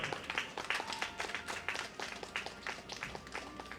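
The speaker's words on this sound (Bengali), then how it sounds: "হাততালি দাও সবাই।" An audience applauds at an annual devotional gathering of a Bengali religious society, a dense crowd of claps rolling on steadily and fairly close.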